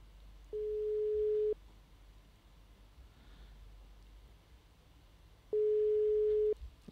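A telephone busy signal sounds twice as steady one-second tones about five seconds apart, clear and close over a quiet background.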